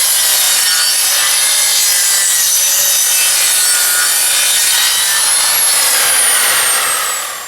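A handsaw cutting an angle into the end of a rough 2x8 lumber board for a garden shed floor, a loud continuous rasping stroke that runs steadily and tapers off at the end, with no talking.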